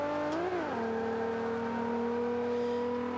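A Mitsubishi Lancer EVO 6 with a turbo engine in Forza 5 revs briefly, then settles into a loud, sustained high-pitched engine drone with a steady pitch, alone without any talk.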